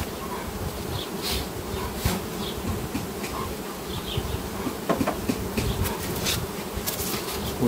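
Honey bees hum in a dense, steady drone, with individual insects buzzing past close by now and then.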